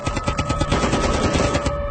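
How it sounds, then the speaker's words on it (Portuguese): Rapid automatic gunfire rattles continuously, loud and dense, with shots firing in fast bursts throughout. "Os tiros começaram sem aviso."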